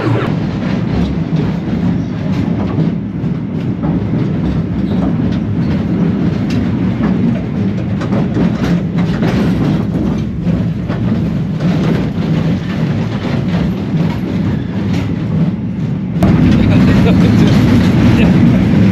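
A roller coaster train in a Chicago amusement park rumbles loudly and continuously up close, a heavy rattling roar that holds steady for the whole stretch and swells slightly near the end.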